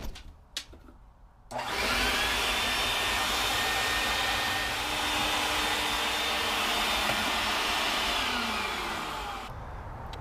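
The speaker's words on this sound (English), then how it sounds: "I would just sand it down just a little bit, and then vacuum it out" A few faint knocks, then a vacuum cleaner roars on, cleaning out a sanded area in a boat's cockpit, and runs at a steady loud whine for several seconds before shutting off.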